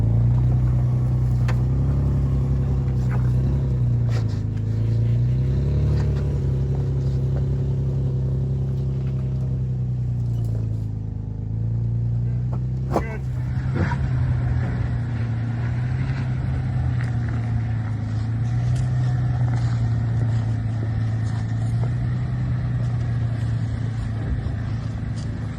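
An off-road vehicle crawling up a trail ramp on crawl control, its engine holding a steady low drone with slight wavering pitch, close and continuous, with a sharp knock or clunk near the middle.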